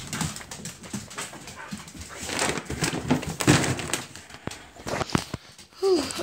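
Dogs whimper and whine in soft, high cries amid shuffling and thumps close by, with a louder whine near the end.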